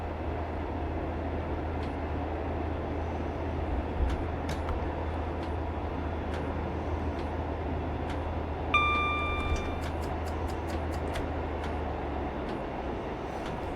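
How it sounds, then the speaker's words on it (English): A BR Class 142 Pacer diesel railbus from the mid-1980s, simulated in Train Sim Classic, running steadily with a constant low engine drone and rumble, occasional faint clicks, and a brief tonal chime partway through. "Also driving the greatest train ever made, the Pacer, built by BR in the mid-1980s"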